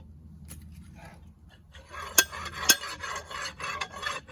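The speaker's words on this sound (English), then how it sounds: "I'm going to throw some lube on that shaft. This is just lithium grease." Lithium grease is rubbed onto the steel shaft of a Harbor Freight slide hammer log splitter, giving a soft raspy smearing with a couple of sharp clicks, close up and with no voices.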